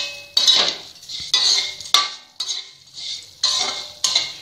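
Dry coconut and dried chillies being roasted in a pan for vangibath powder, a metal spatula scraping and clattering against the pan in a steady series of about eight sharp strokes, close and loud.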